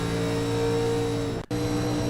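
A European Sportsman race car engine holds a steady, droning tone on full throttle, cutting out for an instant midway before resuming, with no voices.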